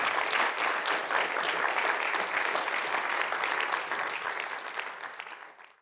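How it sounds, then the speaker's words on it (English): Sustained applause from a large audience at the end of a lecture, loud and even, slowly fading out at the end. "Big round of applause."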